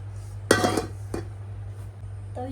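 A metal griddle pan clanks down onto a gas stove with a loud close clatter, followed by a lighter knock and a faint ringing clink, over a low steady hum.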